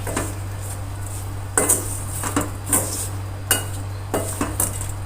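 A spoon mixes raw mango and gunda sambharo in a pan with the heat switched off, giving scattered sharp metallic clinks and scrapes over a steady low hum, with no talking.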